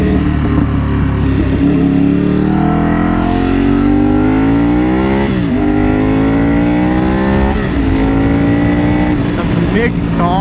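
A motorcycle engine on an open road pulls loud and close through the gears, its pitch sweeping up and dropping at each shift, under steady wind roar.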